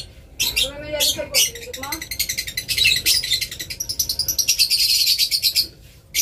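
Small birds chirping close by, a rapid series of bright, repeated tweets that run almost continuously and grow denser toward the end, with a person's voice briefly mixed in.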